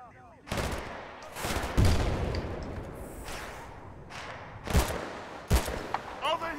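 Gunfire from the video game Battlefield: Bad Company 2, with several loud cracking shots and bursts across a noisy battle background, mixed with people talking.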